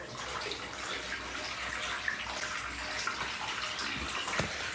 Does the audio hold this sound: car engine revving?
no